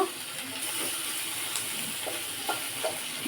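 Crushed peanuts frying in a pan, giving a steady, close sizzling hiss with a few faint scrapes and pops scattered through it.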